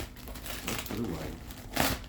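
Someone tears open a parcel of knives, producing close crinkling and ripping of packaging in short irregular bursts, with a louder rip near the end.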